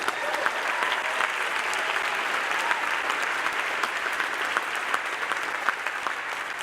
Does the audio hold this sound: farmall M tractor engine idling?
no